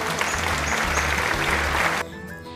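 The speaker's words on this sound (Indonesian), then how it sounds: "Tepuk tangan untuk kelompok 1." Classmates clap for a student group in a classroom, a busy, fairly close patter of hands that cuts off abruptly near the end, leaving a quiet room.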